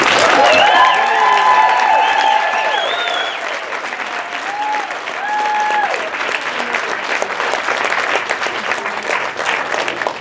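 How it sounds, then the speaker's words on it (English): Audience at an athletic department tribute applauds in a sustained, dense wave of clapping, with whistle-like tones and a few cheers rising over it near the start before the clapping continues evenly. "please give Deb a round of applause right now."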